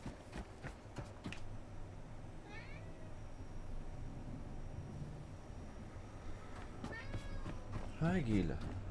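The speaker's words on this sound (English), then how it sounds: "How you doing, kitty?" A cat meows a few times in the video game The Last Caretaker, faint short calls over a steady low ambient hum, with a louder meow near the end.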